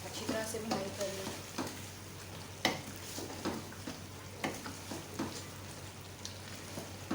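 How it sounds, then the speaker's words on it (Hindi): Mutton karahi sizzles and fries in hot oil with black pepper and garam masala, a soft continuous crackle broken by repeated scraping stirs of the spoon, fairly quiet and up close. "अच्छी तरह से भुनाई कर लें।"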